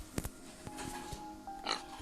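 Pig oinks from a farm-building strategy video game, a few short grunts mixed with clicks and other game sounds, fairly quiet and close.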